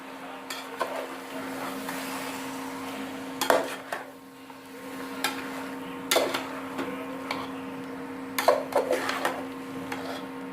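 Chicken in black masala is stirred in a covered pan: a few separate scraping, clattering strokes of a spoon against the pan over a low steady hum and faint sizzle.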